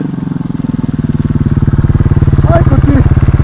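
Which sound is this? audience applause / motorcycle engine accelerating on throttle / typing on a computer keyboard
motorcycle engine accelerating on throttle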